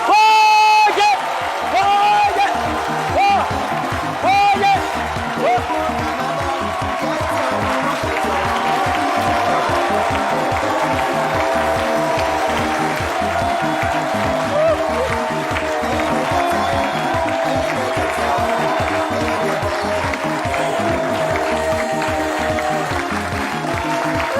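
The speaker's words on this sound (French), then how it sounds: "Sous vos applaudissements, mesdames et messieurs" A festival audience applauds and cheers at a cultural carnival event in Bonoua, with steady loud clapping, whoops and crowd noise lasting throughout and a few voices calling out over it.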